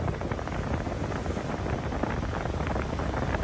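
Steady, loud rush of air blowing from a Mitsubishi Montero Sport's air conditioner at high fan speed, continuous and close, with no voices.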